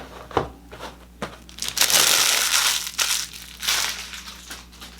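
Crinkly plastic packaging around a Holtzman Gorilla survival knife rustles and crackles up close, loud and continuous with sharp crunchy bursts, with no speech.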